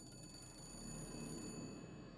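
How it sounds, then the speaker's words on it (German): A telephone rings in the vampire adventure game Dracula 2: The Last Sanctuary, a steady electronic ringing tone over a soft low hum, continuous and moderately quiet, with no speech. "Telefon."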